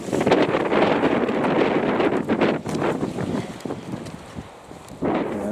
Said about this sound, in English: I need a breather out of that wind. It's quite unpleasant. It's a stiff breeze.